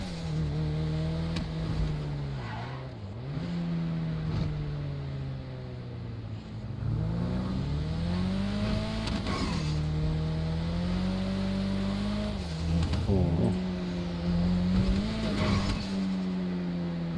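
A Volkswagen Golf engine in the video game GTA 5 drones steadily, rising and falling in pitch as it revs and shifts gears, loud and close throughout with no talking.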